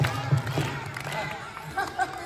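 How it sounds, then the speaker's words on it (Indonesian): A group of children at a Hari Pahlawan storytelling session claps three times in quick unison near the start, followed by scattered room noise and voices. "Kalau kau anak soleh, tepuk tiga."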